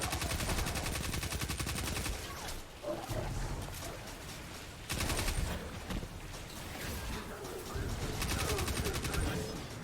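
Hip-fired gunfire in the Destiny 2 video game comes in loud, rapid, continuous bursts, broken by a couple of brief pauses, with other game effects mixed underneath.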